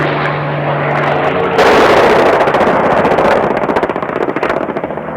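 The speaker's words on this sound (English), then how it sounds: "American planes are bombing only a few hundred yards outside the town." American planes are bombing just a few hundred yards outside Kon Tum in the Vietnam War in 1972, heard as a loud, dense roar of aircraft and blasts that swells abruptly partway through, with rapid pulsing bursts toward the end.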